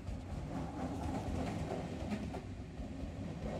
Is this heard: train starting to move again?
yes